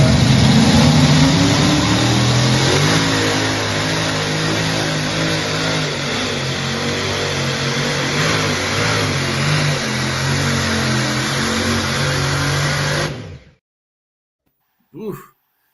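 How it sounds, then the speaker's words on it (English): A pulling tractor's engine roars loud and sustained at a live tractor pull, holding a strained, revving drone for about thirteen seconds before cutting off abruptly, followed by a short distant burst. "We affectionately call this tractor the Swiss Miss."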